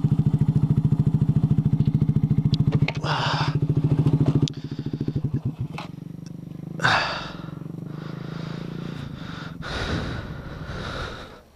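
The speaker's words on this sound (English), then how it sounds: "my exhaust got so much louder once we got up higher" A motorcycle exhaust at high elevation in Bear Mountain State Park, New York. It throbs in a steady, rapid pulse up close, then eases into a softer, uneven rumble with a few sharp bursts.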